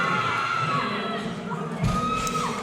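A powerlifting crowd at a national drug-tested championship cheers loudly and steadily, with a brief louder burst of shouting partway through and voices mixed in.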